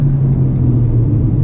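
A 2019 Hyundai Elantra Sport engine drones from inside the cabin as it downshifts on a twisty road, a loud steady low rumble without a break.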